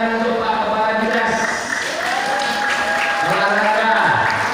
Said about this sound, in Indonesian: tepuk tangan untuk Pak Kepala Dinas